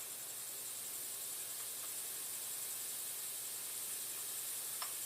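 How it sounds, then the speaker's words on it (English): Maitake and shiitake mushrooms sauté with shallots in olive oil in a pan, giving a steady, even sizzle and hiss with one brief crackle near the end. "We just want to saute these mushrooms for a little bit"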